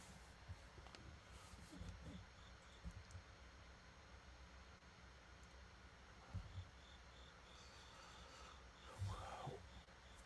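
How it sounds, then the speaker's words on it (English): Crickets chirp faintly outdoors, drifting in through an open sliding glass door in a quiet room, a soft continuous trill with light room noise and a few low bumps. "Why do you hear crickets in the background? Because the sliding glass door is open."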